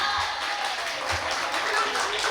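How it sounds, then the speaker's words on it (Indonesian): Audience applauding at a school theatre event, a dense, even wash of clapping throughout, fairly loud with a faint murmur of voices mixed in. "Tepuk tangan."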